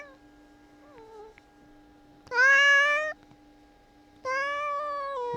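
A house cat meows in two loud, drawn-out calls separated by a pause of low background hum.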